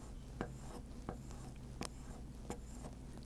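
Wood carving tool stropped on a strip of leather, several soft rhythmic scraping passes, close and quiet, with no talking.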